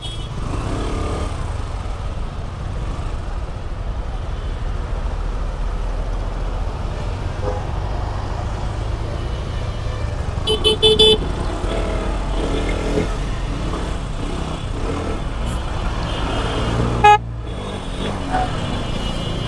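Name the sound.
road traffic jam with cars, motorcycles and horns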